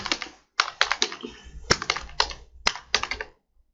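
Bursts of typing on a computer keyboard while entering Urdu text, rapid close key clicks in several clusters separated by short pauses, with no voices.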